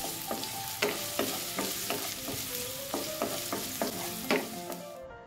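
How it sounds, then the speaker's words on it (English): Potato slices fry in hot oil with a steady sizzle, punctuated by repeated rhythmic scrapes and clinks of a utensil stirring them in the pan, close and moderately quiet. "add the potato slices and fry them until they are done"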